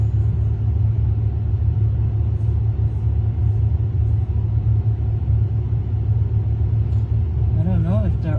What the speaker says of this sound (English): that truck just drove through there looking to see